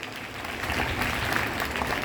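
Applause rises from the audience at a primary school's Republic Day celebration, a brief, moderately distant burst of clapping that swells slightly and holds.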